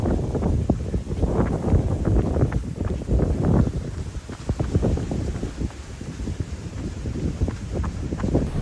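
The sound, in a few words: strong wind blowing outdoors, wind noise on microphone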